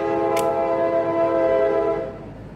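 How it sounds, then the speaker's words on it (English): A passing train sounds its horn, a loud sustained chord held for about two seconds before fading, with a brief sharp click near the start. "That train."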